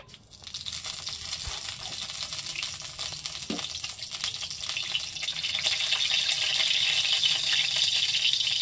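Cooking oil poured into a hot pan for chire upma starts a steady broadband sizzle that grows louder and denser toward the end, with a brief clink partway through and no talking.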